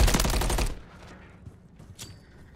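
A fast, loud burst of automatic fire from the MCW rifle in Call of Duty Modern Warfare 3, close and rattling for under a second before dropping to faint scattered shots.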